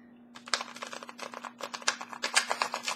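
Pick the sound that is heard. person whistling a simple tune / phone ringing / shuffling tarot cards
shuffling tarot cards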